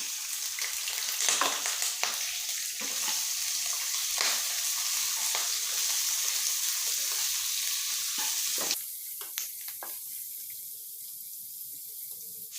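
Shrimp stir-frying in a pan for a Thai salt-and-chili shrimp dish, a steady close sizzle with scraping stir strokes, then a sudden drop to quieter frying and a few clinks near the end.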